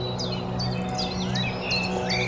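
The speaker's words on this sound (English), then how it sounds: "The dawn bird concert is so lovely to listen to." Dawn chorus of many birds outdoors near misty meadows, with overlapping chirps and whistled trills, some close and some farther off, running continuously over a steady low background hum.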